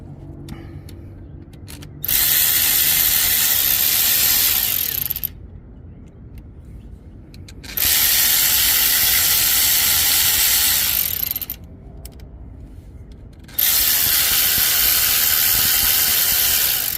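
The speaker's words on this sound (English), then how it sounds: "And then what you do is just put the screws back in." A ratchet wrench drives screws back into a Ford Focus during a transmission repair, producing three loud, close bursts of rapid clicking separated by short pauses.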